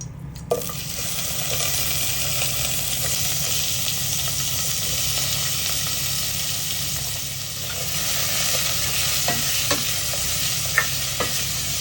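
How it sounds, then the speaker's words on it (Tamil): Onions sautéing with fennel seeds in sesame oil in a pan for Chettinad chicken curry, a steady loud sizzle and crackle throughout with a few soft stirring clicks, no voices. "ஒரு வானலியில் நல்லெண்ணெய் ஊற்றி பெருஞ்சிரகம் பட்ட வகை மற்றும் ஒரு நறுக்கிய பெரிய வெங்காயமும் சேர்த்து வெங்காயம் பொன்னிறமாக வரும் வரை வதக்கவும்"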